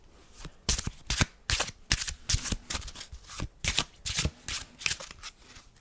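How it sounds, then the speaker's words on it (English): A deck of cards being riffled and shuffled repeatedly, crisp bursts of flicking paper in a steady rhythm, close and clear with no talking. "you can even start by having a spectator shuffle up"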